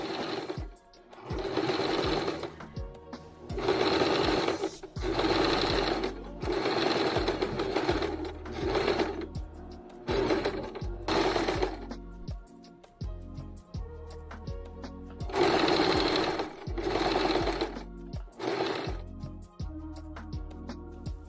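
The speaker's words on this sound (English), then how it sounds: "After cutting the muslin, I sewed each tunic together." A sewing machine stitching muslin pieces of a child's tunic together runs in repeated bursts of rapid whirring, stopping and restarting with short pauses between runs, close and steady.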